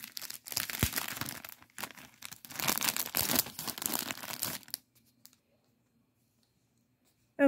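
A plastic-wrapped pack of seven Christmas pop-up cards torn open up close, with dense crinkling, crackling and tearing of the film for several seconds before it goes quiet.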